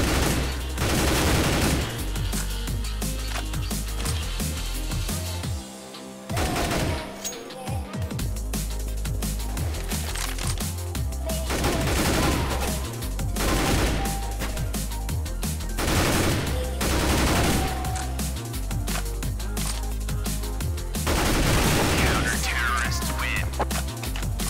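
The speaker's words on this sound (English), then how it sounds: "Demixen, who puts his M4 to great use by catching the T's off guard trying to execute" M4 rifle fire in the video game CS:GO on a competitive map, loud repeated bursts and rapid volleys across the stretch with short pauses between exchanges, close and dominant, no talking.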